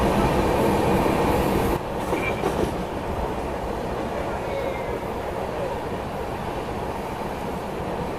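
The Ranchi Rajdhani Express of Indian Railways runs along the track while overtaking another express, giving a loud, steady roar and rumble of wheels and carriages with faint clickety-clack, heard from on board.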